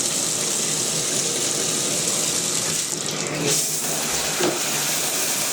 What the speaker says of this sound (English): So there's the water.